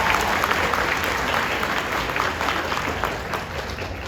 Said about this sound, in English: So if we could please just give them a round of applause for their awesome.